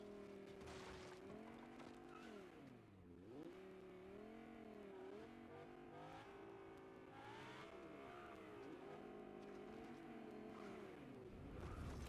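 A car engine in a video game drones steadily, its pitch dipping and climbing as it revs and accelerates, heard alone at a moderate, even level.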